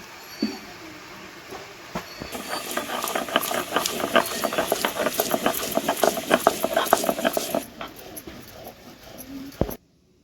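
Fried jhalkuni leaves and salt being ground into paste on a flat grinding stone: a steady, rhythmic scraping and rubbing of stone on stone that rises and runs for several seconds before stopping, with no talk.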